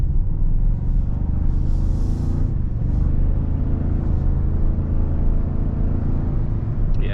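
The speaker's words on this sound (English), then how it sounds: "And in some cases, you can actually hear the turbo spool up, which is really cool." A 2024 Toyota Tacoma TRD Off-Road in sport mode, heard from inside the cab as a loud steady engine and road rumble, with a brief higher whine suggesting turbo spool rising near the two-second mark.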